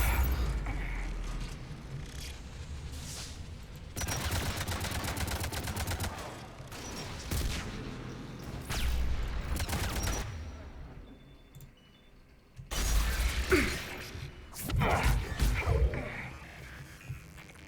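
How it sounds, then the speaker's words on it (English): Laser cannon fire in the video game Mass Effect 3, heard as loud bursts of rapid shots and crashes that come in several separate volleys with short quieter gaps between them. "James has been loving that laser cannon"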